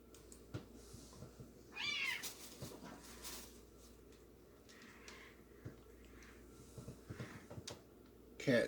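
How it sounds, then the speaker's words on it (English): Cats fighting in a backyard, with a neighbor cat involved: sharp, rising yowls and meows in short bursts against quiet outdoor background, fairly faint and intermittent, one loud cry near the end. "cats having a dispute in the backyard"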